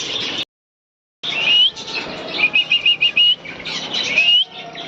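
Budgerigars in an aviary fluttering their wings in rapid bursts, with high chirps and tweets close by after a brief silence.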